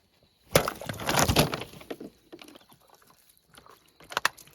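A Kraken knife saws through a plastic water bottle with crackling, crinkling cuts in a dense burst, followed by a few lighter scrapes and sharp snaps close by.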